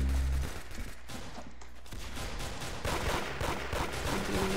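A golden gun fires in a video game as a dense, loud, continuous barrage of gunfire and explosive blasts, without any voice over it.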